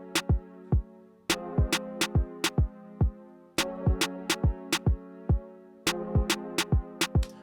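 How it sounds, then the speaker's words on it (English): Hip-hop beat built from a punchy kick drum and a sharp snare, hits falling in a repeating pattern over a sustained tonal backing, loud and clean with no voices. "my main kick drum sound, which I normally use, and my main snare drum sound"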